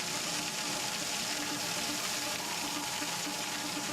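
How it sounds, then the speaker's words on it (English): Water pours from a fire crew's hose into a metal skip, a continuous, faint rushing and splashing that stays steady and even throughout with no voices. "using water from a friendly fire crew to gradually increase the weight in a skip"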